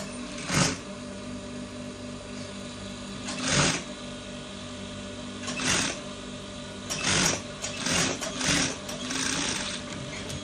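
A sewing machine runs in several short bursts of top stitching along a trouser edge near a welt pocket, its rapid mechanical chatter rising and stopping against a steady background hum, with no talk.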